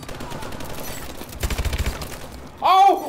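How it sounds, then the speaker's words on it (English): Gunfire in the video game Call of Duty: Advanced Warfare: a short rapid burst of automatic fire in mid-clip over busy game noise, followed by a bright tonal electronic cue. "they're shooting right through here"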